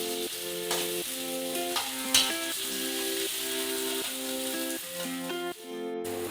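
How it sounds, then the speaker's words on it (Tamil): Cleaned crabs frying in hot masala in a pan give a continuous bright sizzle, with sustained tonal notes running underneath and a couple of sharp knocks, and there is no speech. "அடுத்தது நம்ம க்ளீன் பண்ணி வச்சிருக்க நண்டெல்லாம் அதில் போட்ட வேண்டியதான்."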